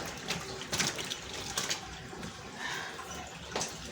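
Water runs steadily during a laundry wash, poured straight in on clothes, a continuous close splashing rush with a few louder surges and no talking.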